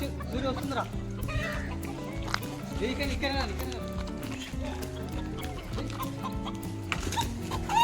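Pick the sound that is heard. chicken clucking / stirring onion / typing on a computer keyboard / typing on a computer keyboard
chicken clucking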